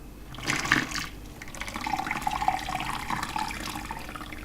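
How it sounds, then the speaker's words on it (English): Tea is poured into a fermenting container for banana wine, a short splashing, trickling flow of liquid heard up close and fairly quiet, starting with a brief burst and then running on. "I'm going to add the tannin now, which is a cup of tea. Just pour it straight into here."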